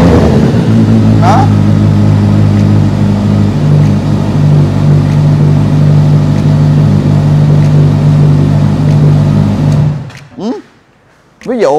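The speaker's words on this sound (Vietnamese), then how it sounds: "để bô zin này mình móc nhẹ thôi, nghe vẫn lực" A four-cylinder motorcycle with its stock exhaust revs lightly and steadily at close range, a loud, continuous engine drone holding for about ten seconds before cutting off, with a brief bit of talk afterwards.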